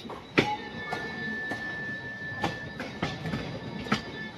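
A Lonavala–Pune local train rolls past close by at Lonavala, its wheels clacking in an uneven rhythm over the rail joints while a thin, steady metallic squeal rings above.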